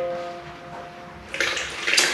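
Warm water swirled inside a glass Chemex coffee carafe, a quiet tone at first, then a louder sloshing, rushing wash over the final second.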